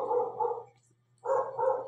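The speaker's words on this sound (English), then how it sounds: "Dogs." A dog barks in two short bursts of two barks each, separated by a brief pause. The barks are fairly close and clear against a faint low hum, with no talking.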